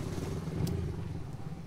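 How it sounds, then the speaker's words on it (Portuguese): Motorcycles pass along a street beside a motorhome being built by hand, a steady nearby engine rumble lasting throughout without any talk over it. "Deixa eu só parar de passar as motos."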